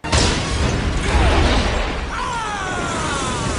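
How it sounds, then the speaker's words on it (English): Explosion in The Grinch movie, a loud sudden blast that roars into a sustained wide rumbling wash of debris and noise, with a rising whine appearing midway, filling the whole stretch. "There's an explosion in The Grinch."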